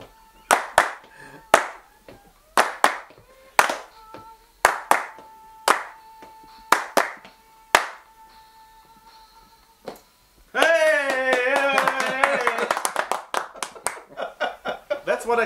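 Several people clap in a steady beat along to a song, a run of sharp, evenly spaced claps that pauses before music with a singing voice takes over, the claps continuing faintly beneath it.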